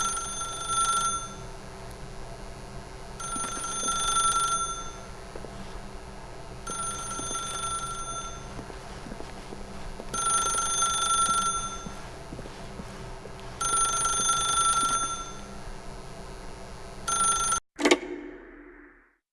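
A telephone in The Stanley Parable video game rings in five evenly spaced bursts of bright bell trills over a low ambient hum, followed by a sharp click as the receiver is picked up.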